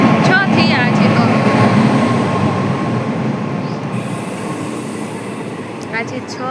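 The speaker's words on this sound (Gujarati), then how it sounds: "આ કઈ ટ્રેન એવી છે" A train passes close by with a loud, steady rumble of rolling wagons and high metallic wheel squeals, gradually easing slightly over several seconds.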